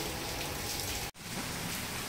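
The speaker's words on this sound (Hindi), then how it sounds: "इतनी बारिश हो रही है" Heavy rain pours steadily into a courtyard, a dense, even hiss of drops on hard surfaces filling the whole stretch, cut only by a momentary dropout near the middle.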